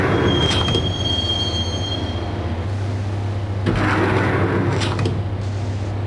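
A subway train rides on rails in the Max Payne video game, with a loud continuous rumble and clatter, high screeching wheel squeals near the start and again later, and a deep steady drone underneath.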